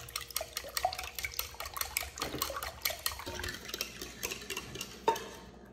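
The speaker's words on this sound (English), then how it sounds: "we're gonna mix that together, and that's our custard." A bowl of custard made from vanilla and reduced sugar is mixed with a utensil, giving repeated scraping, clinking stirs against the bowl. The mixing is steady and fairly close, with no voices.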